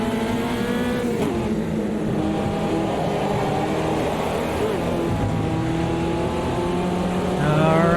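A Fiat Uno race car in Automobilista 2's Copa Uno series at Cascavel drones loudly at high revs, pitch climbing and dipping through gear changes as it pushes toward a corner, a continuous close engine note throughout.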